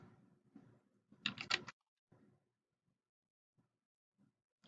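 Several short keystrokes on a computer keyboard at an office computer: a quick cluster of clicks, then a few sparse faint taps, near and quiet with no talk.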